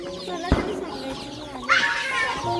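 Chickens cluck at an outdoor family spot, a few short clucks and squawks close by, with a sharp knock and a brighter burst of calls near the end.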